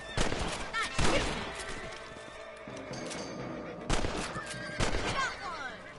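Gunfire in Red Dead Redemption while hunting rabbits: several loud, sharp shots ring out in separate bursts, the first two close together and two more later, echoing over ambient game sound.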